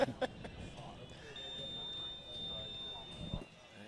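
A long, steady electronic game buzzer tone sounds over a noisy crowd and commentary at an ultimate frisbee world championship, followed by a thud and a brief burst of noise as it ends.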